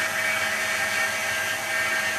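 Steady, loud, continuous whine of a grinder doing an inverted plunge grind on a blade, held at an even pitch with no pauses and no voices.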